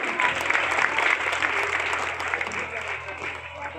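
Loud applause welcomes an educator at a school celebration, a dense burst of clapping from a large gathering that gradually thins over a few seconds.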